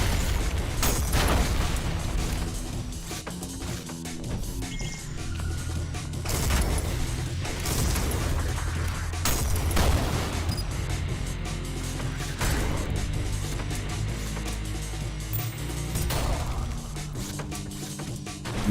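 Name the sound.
parried shotgun projectiles exploding in video game ULTRAKILL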